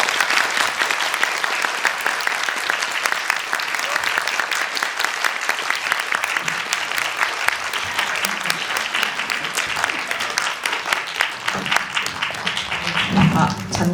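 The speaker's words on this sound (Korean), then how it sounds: "큰 박수로 맞이해 주세요." A packed cinema audience at a film screening and guest talk applauds steadily to welcome guests, dense continuous clapping that holds for the whole stretch with faint voices underneath.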